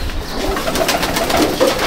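Purebred pigeons in a loft in Icchapur, North 24 Parganas, coo softly in low, murmuring repeated tones beneath a constant rustling, flapping background.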